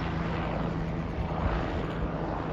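A helicopter flying overhead behind garden trees produces a steady, broad rumbling wash that stays constant and fairly faint throughout, with no talking.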